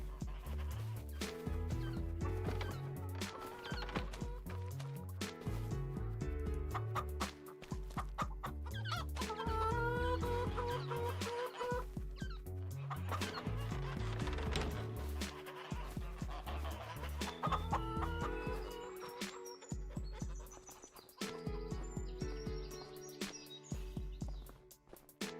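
Chickens clucking and a rooster in a Farming Simulator 25 farmyard, repeated bursts of clucks and calls in a loose rhythm over a steady looping backdrop, fairly close and continuous with no voices.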